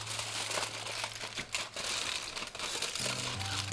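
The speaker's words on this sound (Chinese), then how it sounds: "所以我会拿锡纸给它包裹一圈" Aluminium foil crinkles and crumples steadily as it is wrapped around a small pot lid sealing a pot of tea leaves, rice, sugar and dried tangerine peel, a low hum running underneath.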